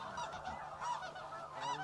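Snow geese honk repeatedly over a sheet-water hunting spread, a steady chorus of overlapping nasal calls swelling and fading, fairly distant and continuous with no voices.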